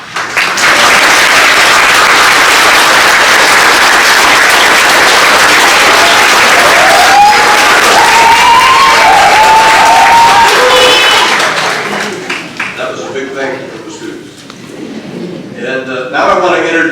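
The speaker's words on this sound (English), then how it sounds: "So if the faculty and staff would all please stand so we can give them a round of applause." Graduation ceremony audience giving faculty and staff a long, loud, sustained round of applause in a large hall, a thick wash of clapping lasting about eleven seconds before thinning out as a voice resumes speaking.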